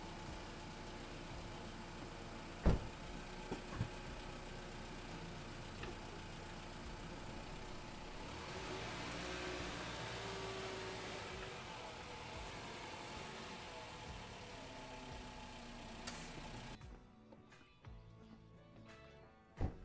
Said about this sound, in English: Let the engine warm up a bit.